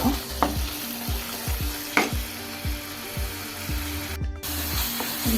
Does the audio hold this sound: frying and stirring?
yes